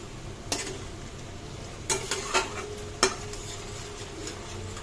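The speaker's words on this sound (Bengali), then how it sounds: "একটু ভালো করে এটা কষানো হোক।" Duck egg korma being stirred and sautéed with coconut milk gives a low bubbling sizzle with a few sharp spatula scrapes and clacks against the pan, nearby and sparse, with no voices.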